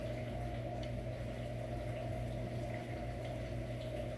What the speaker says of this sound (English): Okay, you can hear the water boiling now.